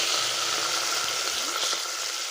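Mint and coriander leaves frying in hot oil in a pan give a steady, close hiss and crackle of sizzling, with faint stirring and no talking.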